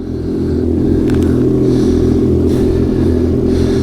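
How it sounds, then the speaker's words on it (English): A vehicle engine cranks and fires up on a super ultra cold start in Western Quebec, then settles into a loud, steady, rough idle with a constant low rumble. "They certainly don't sound good on a super ultra cold start, but no, they go. Just enough to crank it over and start."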